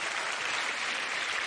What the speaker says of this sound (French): Et on applaudit Boudère, mesdames et messieurs